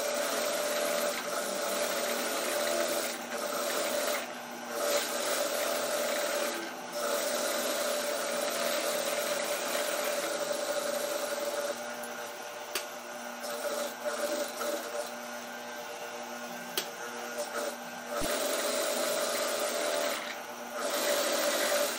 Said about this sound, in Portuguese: Agora eu vou passar um pés-pontozinho aqui da largura do pé da máquina.